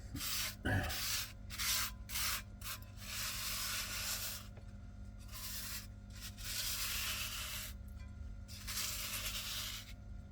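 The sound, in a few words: cleaning a seasoned cast iron pan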